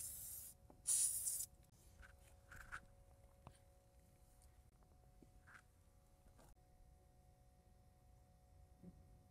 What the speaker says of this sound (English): I'm gonna use brake parts cleaner just to clean them out of oil